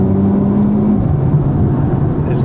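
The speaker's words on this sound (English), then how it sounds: "Hopefully you can hear the soundtrack on the engine behind me." A 2025 Mercedes-AMG GT 43 engine pulls under acceleration from inside the car, giving a loud, steady droning hum whose tone drops and shifts partway through.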